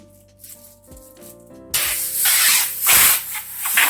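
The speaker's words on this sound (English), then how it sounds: "When you inflate this, when the seams open up, it sounds like it's popping, but it is just the seams opening up." Clear balloon globe inflating from a helium tank, a steady rushing hiss of gas that starts abruptly partway through and swells louder, with crackling bursts as the seams open that resemble small pops.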